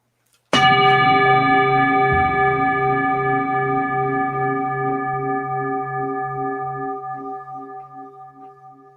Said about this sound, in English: You going to ring the bell?